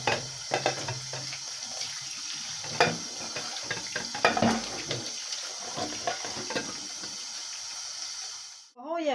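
Cold tap water running over artichokes in a kitchen sink, a steady close splashing stream with brief knocks and handling sounds, ending in an abrupt cutoff.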